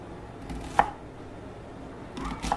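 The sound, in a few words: knife cutting off vegetable ends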